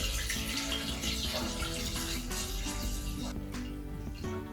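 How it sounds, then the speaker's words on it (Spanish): Spring or mineral water poured generously for a midsummer ritual, a steady close splashing stream running continuously without talk. "El siguiente paso es verter agua."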